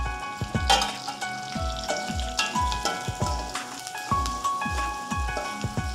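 Spice paste for palak paneer rice sizzles and crackles in a hot pan, with steady frying hiss and repeated soft stirring scrapes at a regular rhythm, close and moderately loud with no talking.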